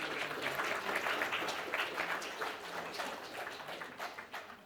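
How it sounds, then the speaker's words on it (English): Audience at a talk giving a round of applause, moderate scattered clapping that thins and fades toward the end, heard from within the room without speech. "I think that person needs a big round of applause."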